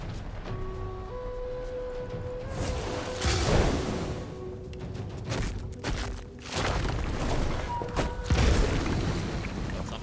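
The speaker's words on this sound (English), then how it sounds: "That's a nice explosion." A deep boom from an explosion in Divinity: Original Sin 2 bursts over the game's background music and ambience, followed by rumbling blasts and a second heavy impact later.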